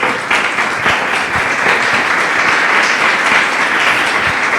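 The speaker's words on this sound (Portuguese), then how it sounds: "Louve a Ele com suas palmas," A church congregation claps loudly and steadily in a dense, continuous wash of applause that fills the whole stretch without speech.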